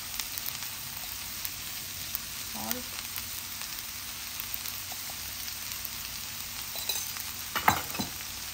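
Vegetable fried rice stir-fried in a pan, a steady close sizzle of frying with scattered scraping and clinking of the spatula, louder tool clatter near the end, no voices.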